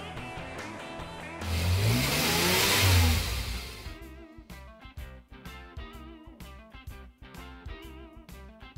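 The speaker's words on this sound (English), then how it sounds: "1948 Dodge two-ton flatbed." A 1948 Dodge two-ton flatbed truck at a car cruise-in in Erie, Pennsylvania rumbles, revs up loudly and close for a couple of seconds, then drops back to a chugging, uneven idle with clattering beats.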